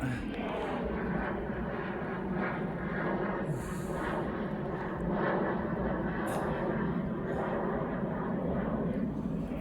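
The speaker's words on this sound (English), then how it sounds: "here's another plane, another jet." A jet airplane passes overhead as a continuous loud roar that fills the whole stretch, with someone talking underneath it.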